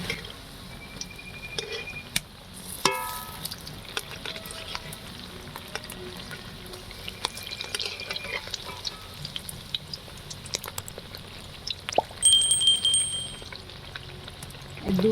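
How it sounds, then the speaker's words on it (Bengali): Fish roe and red lentil chops frying in oil in a pan, a continuous soft sizzle with occasional clinks and a louder bubbling burst near the end as they are turned. "দু পিঠ ভালো করে লাল লাল করে ভেজে নেব"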